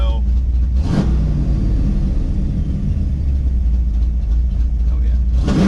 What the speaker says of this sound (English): So we're gonna go do some wide open throttle runs with it.